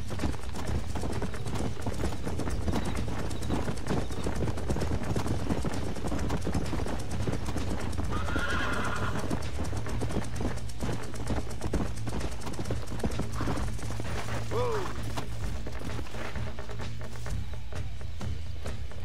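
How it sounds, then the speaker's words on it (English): Horse hooves clip-clop steadily throughout a Red Dead Redemption game scene, continuous and fairly loud, with a brief neigh partway through and faint game ambience. "Horse, stop moving."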